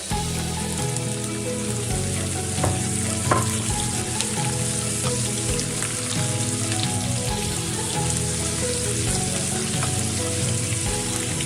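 Finely chopped onions dropped into a hot pan with cumin for upma hiss and sizzle continuously, a dense, even crackle with occasional louder pops and stirring clicks.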